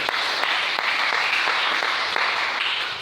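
A congregation in church breaks into sustained applause to acclaim the Lord, dense steady clapping from many hands filling the whole stretch at an even loudness.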